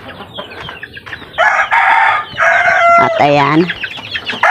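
Chickens and young chicks in a backyard coop cluck and chirp close by, with a rooster-like crowing call rising near the end, over a steady farmyard din and a brief spoken word at the start.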